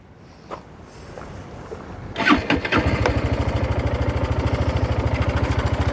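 A Sym VF185i motorcycle engine cranks and catches after a few sharp clicks, then settles into a loud, steady idle with an even, rapid pulsing throb, close by.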